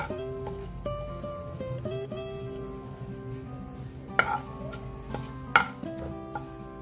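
Cinnamon and bay leaf are stirred in hot oil for red chilli chicken fry, with light scraping and a few sharp metallic clinks of a spoon against the pan over a soft background tone.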